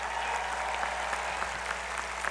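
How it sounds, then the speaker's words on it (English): Crowd at a university commencement ceremony applauding the platform party, a steady, broad wash of many hands clapping at moderate distance with a low electrical hum underneath. "I'd ask you for a round of applause for our entire platform party"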